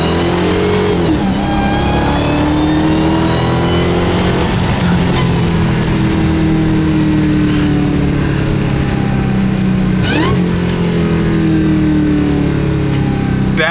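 Dodge Hellcat V8 with an aftermarket intake, revving hard and downshifting, a loud close roar topped by a rising and falling supercharger whine, with sharp shift breaks and steady sustained power throughout.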